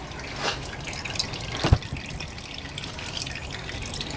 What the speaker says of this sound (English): Okay, that's been dripping for a while now.